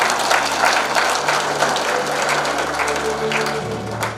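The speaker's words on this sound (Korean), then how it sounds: "환영의 박수를 부탁드립니다" Applause from an audience welcoming introduced members at a regular general assembly of a retired Incheon city officials' association, a dense continuous wash of clapping with steady hum underneath, sustained throughout.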